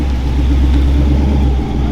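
A race car pulls away from the pits back onto the track, its engine a loud, steady low rumble and drone close by, filling the whole moment with no voices.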